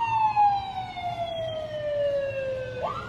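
An emergency vehicle siren wails at night, one long falling tone that sweeps down and starts to rise again, heard at moderate distance over a low traffic rumble.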